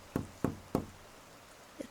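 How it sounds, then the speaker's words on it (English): Three soft, evenly spaced knocks of a single knuckle on a window, then a fainter fourth tap after a pause, quiet and close against low background hum. "It sounds like knocking with a single knuckle on the metal part of a screen door"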